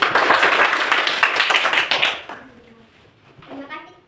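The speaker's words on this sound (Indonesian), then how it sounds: "Kita memberi aplaus dulu untuk kelompok 1" A room of schoolchildren claps for a presenting group in a dense, busy burst lasting about two seconds, then fades, with faint young voices afterward.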